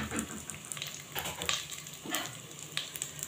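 Steady crackling sizzle of dry pasta frying in about three spoons of oil in a pot, close up, with occasional brighter pops and a faint stirring scrape.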